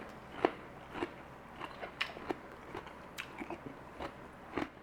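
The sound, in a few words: biting crunchy pickled red cabbage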